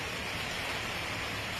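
Rain falls in Como, Italy, a soft, even hiss of drops that stays steady and faint through the short stretch.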